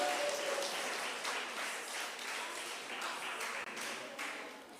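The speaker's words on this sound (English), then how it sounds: "Let's give her a big round of applause." A ceremony audience at a special education week opening gives a sustained round of applause, a dense, even wash of clapping with a few sharper individual claps and a faint whistle at the start.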